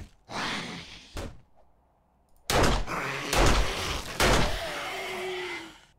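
A door opens in the zombie survival game 7 Days to Die amid a run of thuds and knocks, with short bursts separated by brief quiet and a longer busy stretch of clattering game noise.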